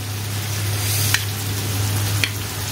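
Pieces of boneless chicken breast frying in a pan, a close, steady hissing sizzle with a couple of brief pops, with no voices over it.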